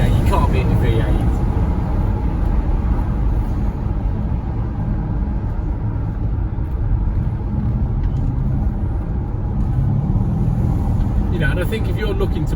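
Bentley Arnage T with its V8 engine cruising on the road, a steady low rumble with road and wind noise heard from inside the cabin, while people talk over it.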